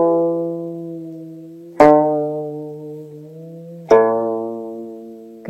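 A Korean string instrument is played with the taeseong technique, in which the string is briefly loosened so the note dips below its main pitch. Three resonant plucked notes sound up close and alone, each ringing out and fading.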